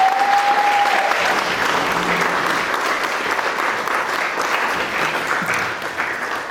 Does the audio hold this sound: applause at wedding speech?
yes